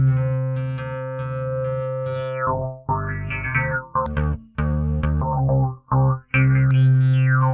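Synthesized tones run through the Ohm Force Ohmygod free plugin with distortion and comb filter, loud buzzy harmonic notes with sweeping, bending pitch and abrupt cuts between phrases.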